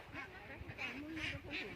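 Ducks quack in a rural yard where a dog guards them, giving several distinct nasal calls at moderate distance. A person talks over the quacking.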